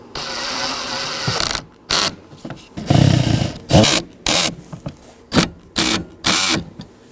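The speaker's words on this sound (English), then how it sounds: "Once again, I'll be using a Phillips head screwdriver." A Phillips head screwdriver backs out the glove box mounting screws in a 2013-2019 Nissan Sentra, giving close, repeated short scraping and ratcheting bursts with brief pauses between turns.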